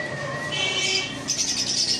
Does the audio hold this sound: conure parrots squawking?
yes